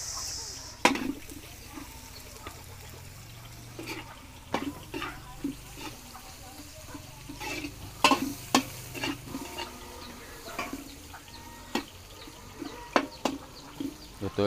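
Onions sautéing with ginger in a pan for a Filipino coconut-milk dish, with a soft sizzle under repeated sharp clicks and scrapes of a utensil stirring against the pan, close and fairly quiet.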